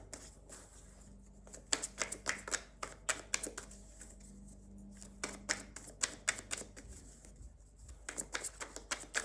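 Tarot cards being shuffled by hand in a rapid riffling patter, arriving in dense bursts of crisp flicks separated by brief pauses, close and clear, with a faint background hum.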